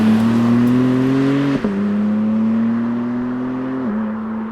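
BMW M4 CS car pulling away, with a loud steady engine drone close by that climbs in pitch through the gears. There are two brief shift dips and no talk.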